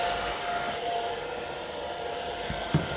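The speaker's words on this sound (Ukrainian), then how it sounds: "запускаємо фен, зараз буде трошки гучно, не лякайтесь" A hair dryer on its first setting, drawing about 645 W from a UPS, blows steadily with a constant airy roar and a faint whine, holding at one level throughout, with a couple of small bumps near the end.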